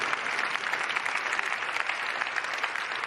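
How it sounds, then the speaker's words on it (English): Awards ceremony audience at the Laureus World Sports Awards 2024 applauds in a steady, dense wash of clapping that stays loud and even throughout, with no talk over it. "You can give them an applause here."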